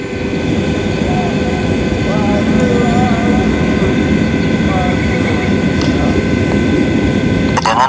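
An iFlight Cidora SL5 5-inch FPV drone flies over rice paddies, its motors giving a loud, steady, high-pitched buzzing whine that holds throughout with small shifts in pitch.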